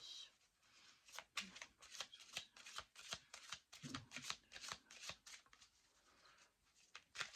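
Oracle cards being shuffled by hand in a quiet room, a run of crisp riffling bursts and soft flicks repeating close up with short pauses between them.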